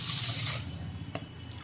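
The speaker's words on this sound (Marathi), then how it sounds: "याच वाटीने मी एक वाटी पाणी घालून घेणार आहे" A bowl of water poured into sugar to make syrup in a home kitchen, a short steady splashing pour that tapers off after about half a second, followed by a faint clink.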